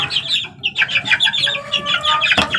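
A chicken clucks repeatedly in quick, chattering bursts close by outdoors on dry ground, a steady run of short calls with no talking.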